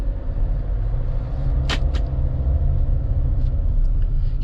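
A Kia All New Sorento idling after start-up, a steady low engine rumble with a brief sharp click partway through, heard alone and close by.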